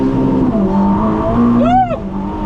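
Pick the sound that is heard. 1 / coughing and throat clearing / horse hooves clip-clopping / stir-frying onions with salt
1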